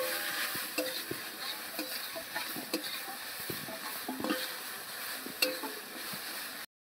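Grated papaya fries in ghee in a wok, with a steady soft sizzle and repeated scraping stir strokes; nobody speaks.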